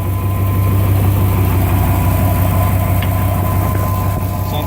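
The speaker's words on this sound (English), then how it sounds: "Sometimes I hear a rattling noise, and it's coming out of this catalytic converter." A 1999 Dodge Ram with a bad catalytic converter idles close by in a steady low rumble, with a faint fast rattling texture running through the engine drone and no talk.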